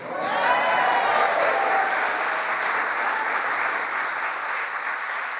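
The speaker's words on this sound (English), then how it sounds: "I said, I have an applause line." Audience applause fills a hall during a presidential address marking the Inflation Reduction Act anniversary, a dense, loud, sustained ovation that holds steady from start to finish.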